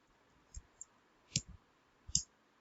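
A computer keyboard is tapped while entering a number into Tally accounting software, a few faint sparse clicks close by in a quiet room.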